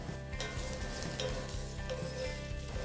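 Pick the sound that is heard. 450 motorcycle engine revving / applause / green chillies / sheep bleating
green chillies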